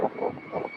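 An Amerijet cargo plane at SDF airport gives a brief, steady engine roar with a low rumble, moderately close.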